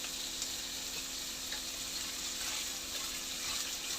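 Mixed vegetables and fresh green peas sauté in hot oil for Bhogi bhaji, giving a steady, close, continuous sizzle with no talking.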